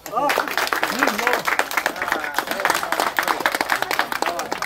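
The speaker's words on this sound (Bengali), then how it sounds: "তার লাগি আবার হাততালি হই যাও" Scattered clapping from a small group of village women at an outdoor hockey-bat football game, applauding a goal, mixed with excited voices and chatter throughout.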